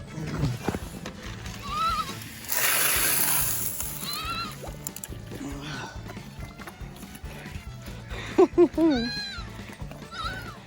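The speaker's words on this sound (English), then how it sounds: "That pig has got some serious eating issues." A pig feeding messily, with wet slurping and splashing through much of the stretch and several sharp squeal-like cries near the end, while people talk over it.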